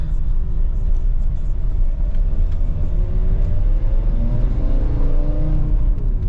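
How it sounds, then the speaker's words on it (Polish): The diesel engine of a VW T5 2.5 TDI five-cylinder van with a damaged engine rumbles steadily as it accelerates, pitch climbing gradually under heavy road and wind noise, recorded from inside. "Auto bardzo ładnie przyspiesza"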